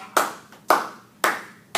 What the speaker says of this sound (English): When you clap your hands